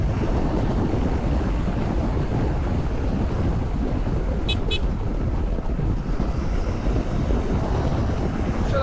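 Heavy wind noise buffets the microphone while a Suzuki V-Strom 800 DE motorcycle is ridden, a constant loud low roar that covers the whole stretch with no talking.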